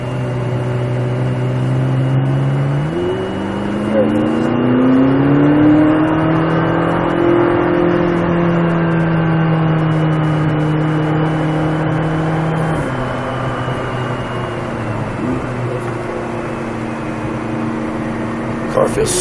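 A 2016 McLaren 570S Coupe engine revs and accelerates on a track, its pitch climbing and shifting through gears, loud and close, with a person talking over it.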